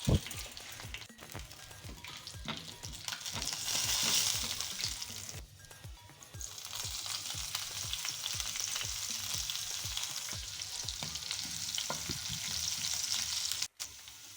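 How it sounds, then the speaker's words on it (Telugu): Green chilli pieces fry with tempering spices, a dense close crackling sizzle broken by regular scraping strokes of a spatula and a brief dip partway through. "ముందుగా రెడీ చేసుకున్న పచ్చిమిరప ముక్కల్ని వేసుకుని మంచిగా వేగించుకోవాలి"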